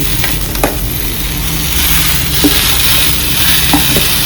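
Chicken pieces frying in a pan for curry, a loud steady sizzle close by, with a few soft scrapes as the meat is stirred.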